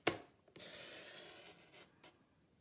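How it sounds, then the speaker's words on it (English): A paper trimmer blade slides along card in one steady rasping cut after a sharp initial click, close and quiet with no talking. "I'm going to put my cutter right at the top. Okay, and I'm going to cut just to the middle line."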